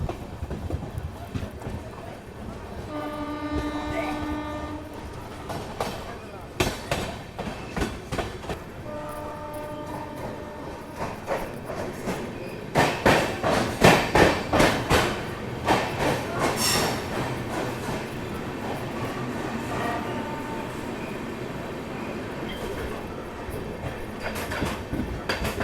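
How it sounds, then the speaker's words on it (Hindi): An Amrit Bharat Express rolls slowly through a station at night without stopping, with steady rumble, wheel clatter and horn-like tones standing out near the start, over continuous background noise. "हमारी ट्रेन को यहाँ पे स्लो कर दिया गया है।"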